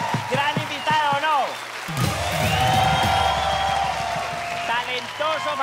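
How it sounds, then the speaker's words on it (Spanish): Studio audience on a talk show breaks into loud clapping and cheering after a host speaks, the applause swelling and holding for several seconds before talk resumes over its tail. "Gracias, un aplauso para Elmer."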